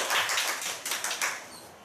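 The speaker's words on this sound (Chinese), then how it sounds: "让我们用热烈的掌声欢迎我们嘉云老师" An audience in a Taoyuan school classroom or meeting applauds to welcome a teacher, a brief burst of close clapping that fades out within two seconds.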